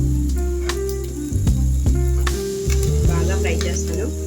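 Papaya pieces and brinjal fry in hot oil in a pan with a steady, close sizzle. Sharp clinks and scrapes of stirring break in several times.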